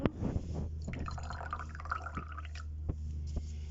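Liquid acid compound dripping and trickling onto a soil sample in a lab setting, a few close, soft splashes and drips over a low steady hum.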